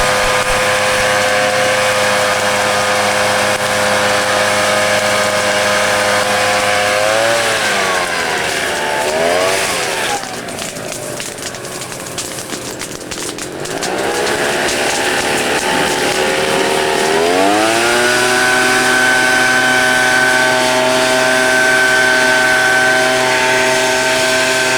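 A fire service blower engine runs loudly and steadily, dipping in pitch and level midway before spooling back up to a sustained high drone.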